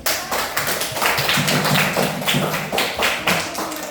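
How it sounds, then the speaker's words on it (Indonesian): A classroom of pupils claps for a classmate, producing a short burst of uneven, fairly close handclaps with distinct individual slaps layered into a loose patter that stays lively throughout. "beri aplaus dulu untuk si Kece"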